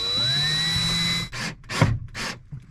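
Cordless drill driving screws to mount an EcoFlow power kit to a camper van wall: a steady whirring run with rising pitch, then three short, loud bursts, close up.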